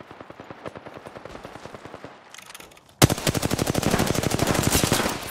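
An SMG fires in the video game Apex Legends: a rapid, lighter burst of automatic fire, a brief gap, then a louder, sustained stream of close shots.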